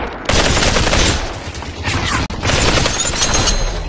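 Rapid automatic gunfire in the VR battle royale game Population: One, loud, dense bursts filling nearly four seconds with a brief break midway, mechanical clatter mixed in.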